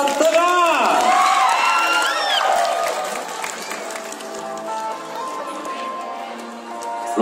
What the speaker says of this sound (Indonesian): Berikan tepuk tangan untuk Sagar Pitataka dari Buruk Jahu, Kalima